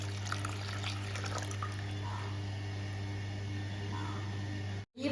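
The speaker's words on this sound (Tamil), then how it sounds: "இந்த மிக்சி ஜார் தண்ணியை கழுவி இதில் ஊற்றிக்கிறேன்." Water from a rinsed mixer jar is poured into batter for neer dosa, a close, steady splashing trickle over a low hum that cuts off abruptly near the end.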